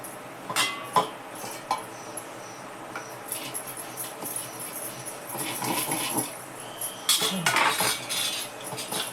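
A metal pot and steaming stand are set down and shifted on a stove, with scattered clinks and clatter of cookware at close range, quiet and intermittent, and no voices.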